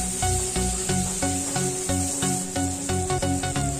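Large-cut tomato chunks fry in hot oil for an Assamese chicken dish, giving a steady hiss under plucked, rhythmic background music.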